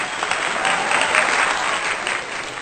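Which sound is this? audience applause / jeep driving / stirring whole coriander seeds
audience applause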